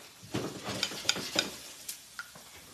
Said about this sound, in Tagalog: And then Daddy's gonna mix it. Mix pa. Halo pa.